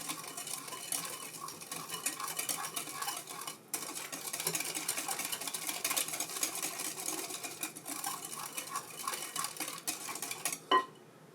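Sugar is mixed into banana bread batter in a bowl, a continuous close scraping and clinking of utensil against bowl with brief pauses and a sharper knock near the end, no voices.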